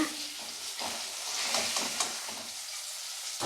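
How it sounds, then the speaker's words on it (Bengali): Papaya pieces frying in a hot wok of oil for a hilsa fish curry, a steady close sizzle with bursts of crackle as the vegetables are stirred, no talking. "সবজিটাকে এর মধ্যে আমি দিয়ে দেব দিয়ে ভালো করে ভেজে নেব"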